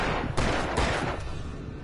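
In-game gunfire rings out as two or three loud broadband blasts with long, echoing decay, spaced about half a second apart, close and with no talking over them.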